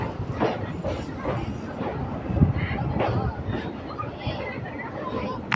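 Hyderabad Express train creeping slowly over a bridge under repair, a low rumbling roll with irregular clanks and knocks from the wheels, heard close from on board amid background chatter of passengers.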